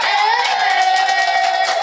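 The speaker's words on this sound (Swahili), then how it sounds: "Hebu ongeza makofi kwa ajili ya." A church congregation at a wedding service claps and cheers, a steady, dense burst of many hands close by, with sung and shouted voices blending in throughout.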